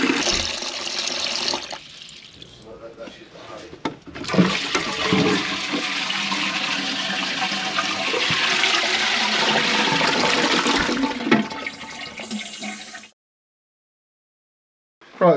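A noisy toilet flushes loudly, a rushing surge of water that gurgles on for about ten seconds before cutting off abruptly into silence.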